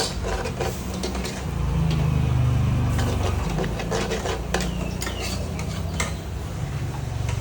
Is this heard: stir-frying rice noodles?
yes